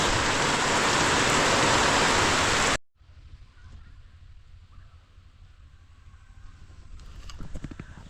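A steady wash of heavy rain comes in close and loud for a few seconds, then cuts out abruptly into a quieter outdoor backdrop with faint patter.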